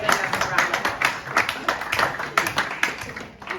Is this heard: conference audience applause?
yes